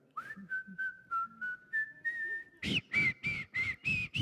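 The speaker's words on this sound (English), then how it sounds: "Yeah, I can whistle in Spanish." A person whistles a tune, first in long sustained melodic notes, then in a run of short, sharper, louder blasts, with no talking.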